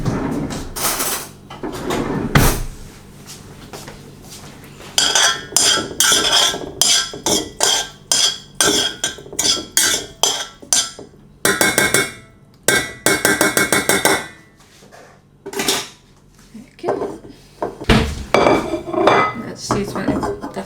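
Metal utensils clatter and scrape against a dish while food is mixed by someone living with hemiplegia, giving bursts of quick, rhythmic clinks and knocks separated by short pauses, close and loud.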